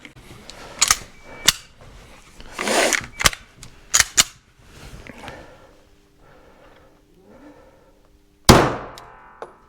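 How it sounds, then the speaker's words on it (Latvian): Sharp gunshots ring out during a second round of five shots at an informal shooting contest. The cracks are loud and spaced apart, with metallic ringing tails between them and faint voices in the background. "otrais piegājiens 5 šāvieni"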